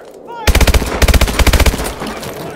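Rapid bursts of automatic machine gun fire in the shooter game Call of Duty: Advanced Warfare, three loud rattling volleys in quick succession, close and dominant, with no voices over them.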